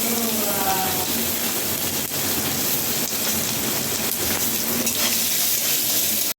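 Cumin, raisins, cashews and paneer fry in a hot pan, giving a steady close sizzle and crackle that runs without a break, with faint scraping now and then and a voice briefly in the background.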